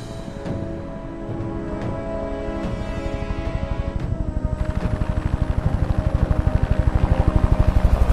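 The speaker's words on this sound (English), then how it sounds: "Helicopters away." Helicopters taking off and flying in an action creature movie, a loud steady rotor chop that builds into a stronger, rhythmic thumping toward the end, with no talk.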